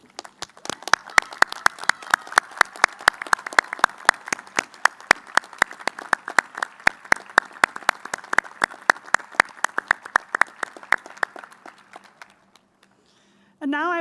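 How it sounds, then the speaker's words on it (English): Applause for outstanding seniors standing at a commencement ceremony: a steady run of sharp, evenly spaced claps, loud and close, fading out near the end before a brief voice cuts in. "please stand for a well-deserved round of applause"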